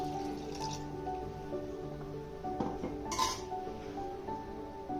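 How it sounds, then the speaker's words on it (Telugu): Water poured into a pan of fried masala for chicken curry gravy, a short splashing, dripping pour with a faint clink, partway through a steady background hum. "ఇప్పుడు గ్రేవీకి సరిపడా వాటర్ వేసుకోవాలి"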